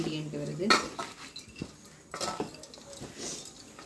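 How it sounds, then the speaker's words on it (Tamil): A spoon clatters and scrapes inside a metal pot while a masala poori mixture with juice is stirred, giving sharp clinks and scraping knocks close up, with a sizzling hiss early on. "ஜூஸையும் இதில் போட்டு அப்புறமா அதையும் நல்லா கிண்டி விட்டு வெயிட் பண்ணுங்க"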